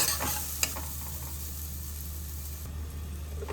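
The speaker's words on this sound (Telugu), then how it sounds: "ఇందాక కలిపి పెట్టుకున్న మామిడికాయ ముక్కలు ఉన్నాయి కదండి అవి వేసేసుకున్నాం దీన్ని ఒక్క రెండు నిమిషాలు వేయించుకున్నాం" Raw mango pieces frying in a pan for a mango masala curry, a steady close sizzle with a couple of stirring knocks, no one talking.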